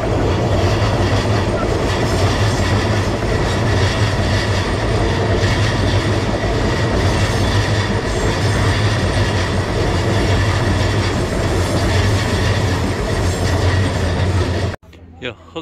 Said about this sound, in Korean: 열차 한 대 들어오겠습니다